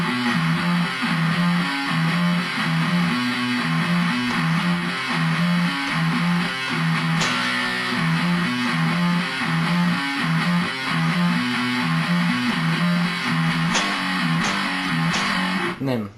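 Electric guitar plays the whole riff at a slow tempo, a steady distorted chugging pattern with repeating low notes that runs loud and unbroken for the full stretch, with no voices.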